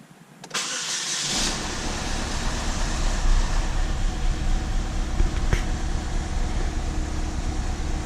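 A 2009 Chevy Cobalt, retimed after head gasket work, cranks and fires, then settles into a loud, steady but slightly rough idle close by.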